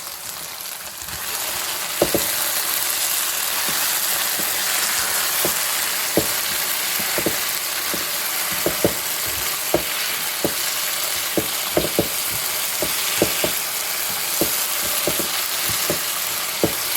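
Morel mushrooms sizzle steadily in a frying pan, with a run of sharp utensil clicks and scrapes as they are stirred, close and loud with no talking.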